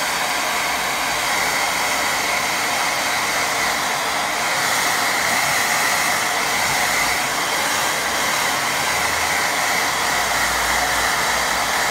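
A hair dryer blows steadily and loudly at close range for the whole stretch to dry a layer of watercolour paint, a constant broadband roar with no pauses.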